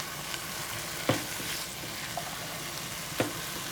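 Chopped vegetables for shepherd's pie cooking in a pan, a soft, steady sizzle with a couple of sharp spoon knocks against the pan.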